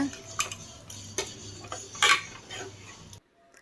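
A spoon scrapes and clinks against a metal pot of curry in irregular strokes, close by and fairly quiet.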